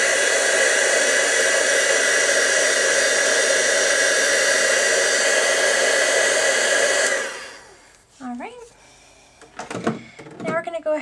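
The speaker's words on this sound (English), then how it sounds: "grab my heat tool real quick to zap it dry so I don't smear it anywhere" A heat tool blows a loud, steady, hissing whine for about seven seconds while drying ink on a card, then cuts off abruptly, followed by quieter handling sounds and a voice.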